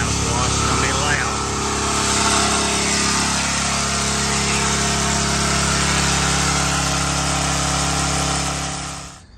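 A 4gpm AAA pressure washing pump running with problems during a house wash gives a loud, steady, rough mechanical drone that holds for about nine seconds before tapering off at the end.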